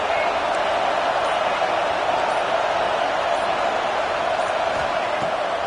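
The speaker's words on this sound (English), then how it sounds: "This crowd bringing the energy and noise early." Football stadium crowd roars in a sustained, dense wall of cheering noise, loud and even throughout, with a commentator's voice faintly mixed into the din.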